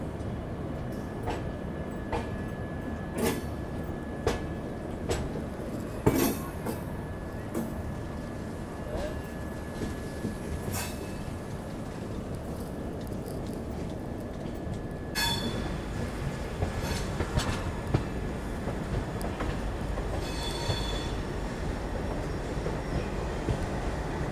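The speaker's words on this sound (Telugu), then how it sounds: "so we are departing from Yesvantpur junction" A Garib Rath express rolls out of Yesvantpur Junction with a steady low rumble of wheels on track, occasional squeals and clanks, and a sharper rise in rail noise partway through.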